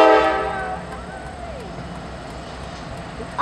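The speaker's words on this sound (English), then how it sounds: "Why did he honk?" Norfolk Southern Dash 9 locomotive hauling empty autoracks out of Ayer, Massachusetts, sounds a brief horn blast at the start that fades into a low steady rumble of the passing train, moderately distant.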